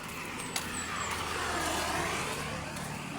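Cars and other vehicles pass steadily along a sunny roadside, a continuous rushing traffic noise close by with no talking over it.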